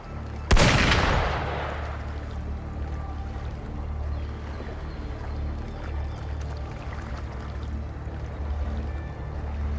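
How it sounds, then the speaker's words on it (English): Within a video game, a single sharp gun blast cracks out early, then fades into a low rumbling ambient hum with faint scattered distant noises and no further shots. "Gunfire!"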